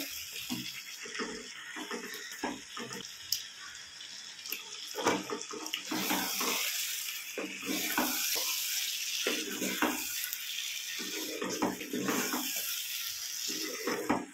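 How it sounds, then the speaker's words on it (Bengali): Spiced potatoes for shahi aloo dum being stirred with garam masala in a pan, a steady sizzling hiss under repeated scraping and clinking strokes of the spoon across the pan, close and continuous with no talking. "5 মিনিট একটু নেড়ে চেড়ে নিই গরম মশলাটা দিয়ে।"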